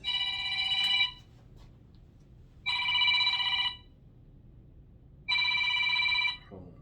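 A mobile phone with a cracked screen rings in three evenly spaced electronic bursts, each lasting about a second with a short pause between them, loud and clear against a quiet room.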